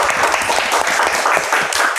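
Applause for university lecturers in the sharia and Islamic economics faculty, a steady dense clapping from a crowd that stays loud and even throughout, with a faint voice underneath.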